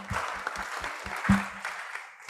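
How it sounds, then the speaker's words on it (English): An audience applauds panelists at the end of a talk, a short burst of clapping that builds briefly and then fades. "Please give a round of applause to our panelists here."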